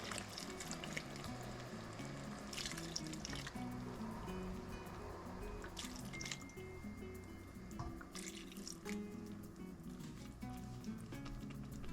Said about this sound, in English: 15 minutes in, you can add 2 cups of seafood stock.